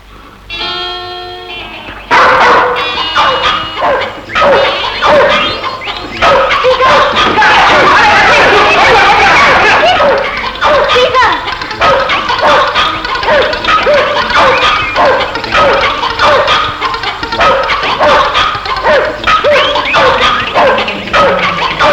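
A dog barks loudly and repeatedly in a movie scene, with yips and whimpering mixed in, sustained over much of the clip amid other noise.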